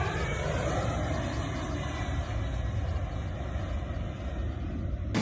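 A large airplane comes in to land, its steady roaring engine noise loud and continuous throughout, with no voices.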